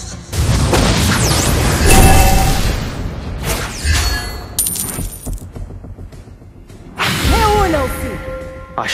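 Booming blasts and whooshing spell effects from the Mobile Legends: Bang Bang battle game, loud and close in repeated bursts, mixed with chiming coin-like dings and brief spoken game lines.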